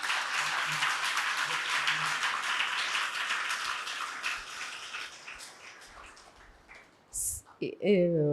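Church congregation clapping together in a steady, fairly loud wash of applause that gradually thins out, followed by a brief splash and a voice starting to speak at the end.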